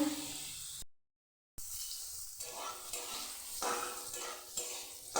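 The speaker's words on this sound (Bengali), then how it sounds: "এবার পটলটাকেও ভেজে নেব হালকা করে।" Pointed gourd rubbed with salt and turmeric fries lightly in a pan, a close sizzle with scraping stir strokes, cut by a short silent gap early on before the frying resumes.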